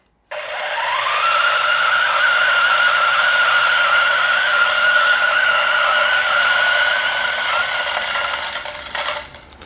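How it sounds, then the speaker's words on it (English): A DF64V Gen 1 coffee grinder set to 1400 RPM starts up and runs with a loud, steady high-pitched whine for about nine seconds, then winds down at the end. "And what we're going to do is we're gonna hot start each grinder"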